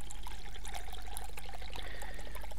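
Water is poured in the cooking video game My Universe: Cooking Star Restaurant, a steady trickling stream alongside light chimes and game background music, with no talking.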